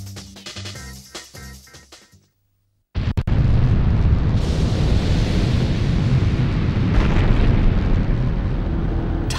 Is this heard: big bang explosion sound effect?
yes